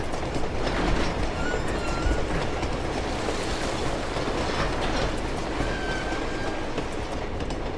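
A moving train in the video game Uncharted 2, a dense continuous rumble of rolling wheels and rattling cars with faint clickety-clack and brief high metallic squeals, loud and steady throughout.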